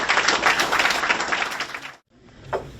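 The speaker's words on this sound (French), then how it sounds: "Prenez le temps d'applaudir notre frère Jean-Guy" An audience at a church gathering applauding, a steady wash of clapping for about two seconds that stops abruptly, followed by faint room noise and a brief sound.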